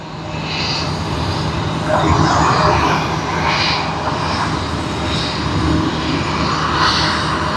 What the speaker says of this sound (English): as Cathay Pacific taxis to the terminal